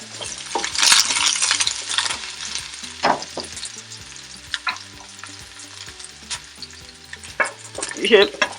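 Sliced onions sizzle and crackle in a hot pan while being stirred and evened out for an omelette, a loud close frying hiss with scraping utensil strokes and occasional clinks against the pan.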